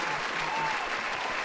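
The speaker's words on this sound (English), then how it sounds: "We're adding a long clap." A studio audience applauds in a dense, even wash of claps that holds steady and fairly loud throughout, with no voices over it.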